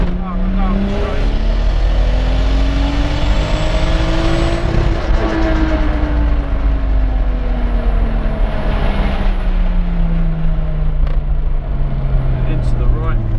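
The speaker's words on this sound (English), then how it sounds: "That turbo sound is crazy." A Toyota Supra MK4 drives a drift lap on a track, its turbocharged engine revving loud and close, the pitch rising and falling through the corner, while people talk over the sound.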